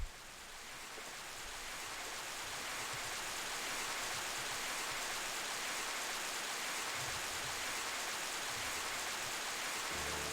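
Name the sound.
heavy rain in the video game Baten Kaitos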